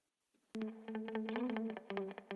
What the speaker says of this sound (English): It's the echo to make it a little wide. So there's like a slapback.